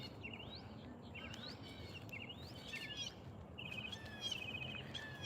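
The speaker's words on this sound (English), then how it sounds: "This is a bird sanctuary, by the way. So that's why we're seeing all of these different birds." Birds call around a pond at a bird sanctuary: scattered short chirps and a few trilled notes sit faintly over a steady outdoor hiss and low rumble.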